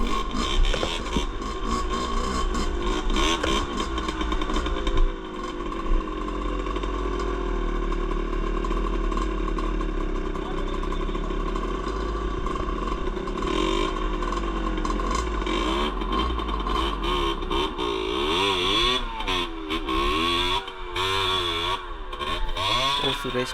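A dirt bike's engine drones on a ride through an abandoned jungle place in Sri Lanka, a steady buzzing hum with shifting revs that rise and fall, and a brief clatter near the start.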